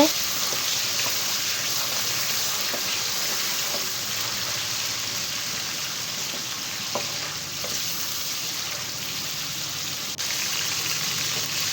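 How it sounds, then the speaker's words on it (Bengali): A paste of green chilli, garlic, ginger and onion frying in a pot in a village kitchen, a steady close hiss and sizzle with soft scraping stirs throughout. "এখন একটু ভালো করে নাড়াচাড়া করে নিচ্ছে"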